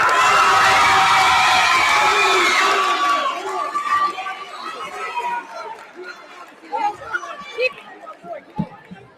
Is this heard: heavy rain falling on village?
no